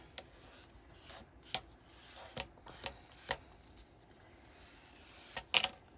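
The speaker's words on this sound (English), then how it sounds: "lay it down, and just rub our little edges" Rubbing down the glued edges of paper pressed onto a junk journal page, heard as soft, faint scattered brushing and scraping strokes, with a sharper rub near the end.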